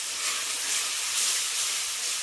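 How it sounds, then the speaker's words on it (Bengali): Water splashed into frying chilli-powder spice paste in a pan gives a steady, fairly loud broadband hiss that holds evenly for a couple of seconds, with no voices. "এবার জল দিয়ে মশলাটাকে খুব ভালো করে কষিয়ে নেব।"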